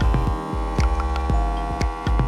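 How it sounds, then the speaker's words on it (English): Vacuum sealer sealing a block of pork shoulder, a steady close motor hum with rhythmic throbbing pulses through the whole clip. "vacuum sealing the meat allows it to cook evenly and is pretty important"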